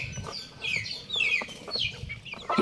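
Native chickens clucking and calling in a backyard pen, several hens overlapping in short bursts at close range, with steady low farmyard noise underneath and no talk.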